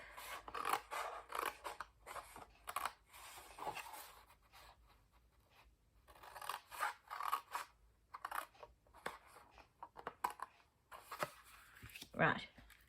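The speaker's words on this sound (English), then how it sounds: "cut up all our score lines" Scissors or a blade cutting along score lines in card stock while making Christmas gift boxes, a series of soft rasping snips in bursts with quiet gaps between them, and a brief sharper scrape near the end.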